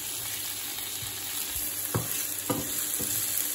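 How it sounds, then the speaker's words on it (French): Chopped onion and potatoes sizzle in a frying pan with a soft, steady hiss, broken by a few stirring scrapes and clatters near the end. "j'ai recoupé un petit peu d'oignon sur l'oignon qui me reste et je fais rissoler un petit peu pour ajouter avec les légumes"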